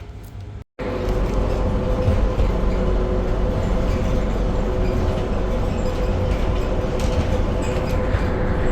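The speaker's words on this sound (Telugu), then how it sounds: "ఇప్పుడు మనం ఇక్కడ నుంచి ఈ ట్రాన్సిట్ ట్రైన్ తీసుకెళ్తాం" An airport transit train rolls along with a steady, loud rumbling drone and a sustained mechanical hum heard from inside, after a brief cut near the start.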